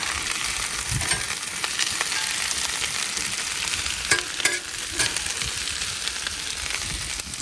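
A New York strip steak seasoned with adobo sizzles loudly on a Blackstone flat-top griddle: a constant close hiss with a few sharp spatula scrapes and taps partway through, no voices.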